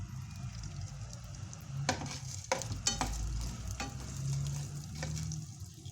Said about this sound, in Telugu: ఇవి వేసేసుకుని మనం మంచిగా ఫ్రై చేసేద్దాం